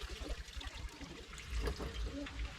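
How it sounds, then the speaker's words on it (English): Grated coconut is poured into a milky ground-rice batter outdoors, giving a soft wet trickle and slosh under a steady background noise, with people talking. "Now we're gonna add the coconut into the rice."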